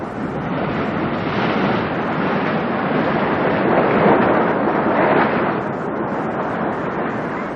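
Sea waves at the Kumari Ghat coast, a continuous loud roar of surf with steady wash and rush, slightly swelling midway, with no voices over it.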